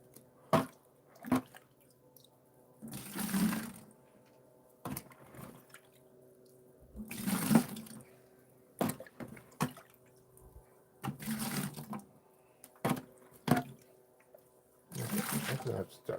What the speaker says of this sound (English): We're going to start with some water.